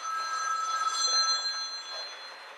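A mobile phone ringing in a kitchen, a faint, steady electronic ringtone of thin sustained tones lasting throughout, with no voices.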